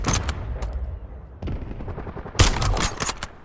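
Rapid automatic gunfire in Warzone, the Resurgence solos battle royale, crackling in dense bursts with a loud volley near the end and brief lulls between.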